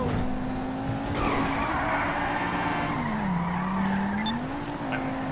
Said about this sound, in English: I'm Tokyo drifting.